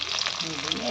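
A brief burst of loud, hissing sizzle as turmeric-coated koi fish are dropped into hot oil.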